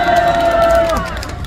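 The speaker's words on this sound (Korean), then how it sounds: "큰 박수 부탁드립니다" Crowd at an outdoor youth rally in Gwanghwamun Square on the eve of March 1st Independence Movement Day cheering and shouting as a speaker is introduced, with a sustained whistle-like tone briefly riding over the loud, dense noise.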